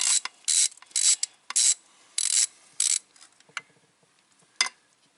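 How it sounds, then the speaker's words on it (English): A hand ratchet clicks in quick bursts of ratcheting strokes, close and crisp, as it backs a bolt out of the fuel bowl on a 1996 Ford F-250 Powerstroke diesel, with short pauses and a final isolated burst. "See, that one had enough grease and gunk on it, it came out with the ratchet."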